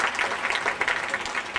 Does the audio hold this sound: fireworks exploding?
no